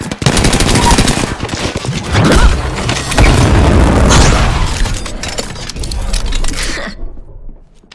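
Rapid automatic weapon fire in Apex Legends, dense bursts of gunshots crackling close and loud for several seconds before cutting off abruptly.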